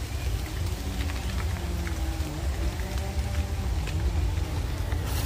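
Steady rain falls outdoors near old tombs, a dense even hiss with low rumble beneath it, continuous and fairly loud throughout with no voices.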